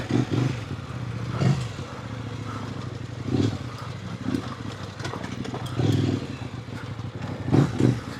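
A Kove Rally adventure motorcycle, 800X or 450, ridden over rough off-road ground, its engine drone steady and close with recurring louder surges and some clatter from the terrain.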